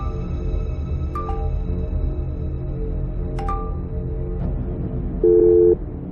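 Telephone line tone after a call is hung up: a repeating busy signal beeps under a low hum, with a few short electronic chirps and a louder tone near the end.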